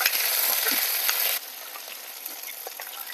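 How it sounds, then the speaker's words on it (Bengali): Tomato, capsicum and onion hit hot oil in a wok and sizzle loudly, then settle into a quieter steady frying hiss with light stirring clicks. "দিয়ে দেবো টমেটো, ক্যাপসিকাম, পেঁয়াজ। নেড়ে চেড়ে নেবো ভালো করে।"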